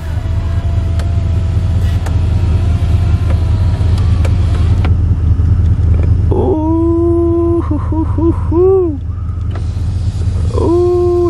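Chevy panoramic sunroof motor closing inside the cabin, a whining electric drive heard in several short bursts over a steady low vehicle hum.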